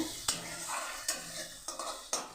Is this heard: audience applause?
no